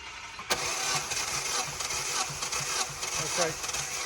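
A car engine with its plugs out cranks over without starting during a cylinder 4 compression test, a loud rhythmic starter whirr with even pulses lasting about four seconds.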